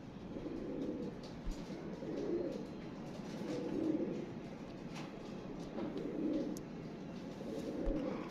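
Purebred original pigeons, not crossbred, coo softly in repeated rolling phrases at a steady, unhurried pace, close by with a faint background hum and no talking.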